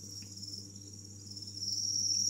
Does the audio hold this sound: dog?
no